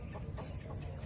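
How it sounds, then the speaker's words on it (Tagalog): A Chinese silkie chicken gives low, soft clucks, a few quiet repeated notes over a steady background hum, fairly close and without speech. "narit tayo Chinese silky chicken"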